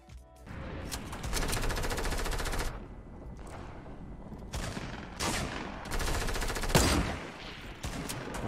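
Rapid automatic gunfire from a Fortnite match, loud bursts of sustained fire broken by short pauses and single sharp shots, heard alone without talk.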